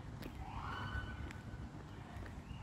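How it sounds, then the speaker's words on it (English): A fire truck siren wails steadily in the street during a Fourth of July parade, heard from a distance as a sustained rising tone over low ambient rumble. "there's a pretty steady siren going off down there, like a fire truck going down the street in a parade"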